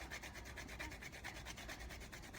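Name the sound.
grating whole nutmeg with a small grater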